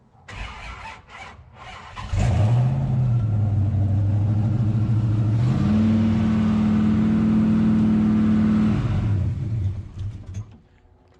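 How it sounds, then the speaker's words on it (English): A 1968 Dodge Charger's 426 HEMI V8, freshly reassembled with its cam advanced, cranks and fires up after a few faint knocks, then idles loudly, steps up to a higher steady rev, drops back down and fades as it shuts off. "engine sounds a lot better. Yeah, it does sound better. It sounds a whole lot better with that cam advanced."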